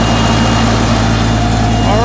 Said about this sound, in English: the motor sounds great